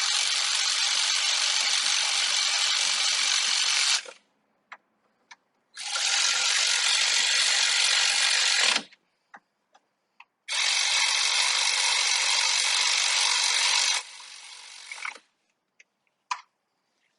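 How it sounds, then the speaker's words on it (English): An air ratchet running bolts down on a 1996 Ford Ranger 2.3 power steering pump, three loud sustained whirring bursts of about three seconds each, separated by short gaps with faint clicks and taps. "We're going to run them up real quick. with the air ratchet"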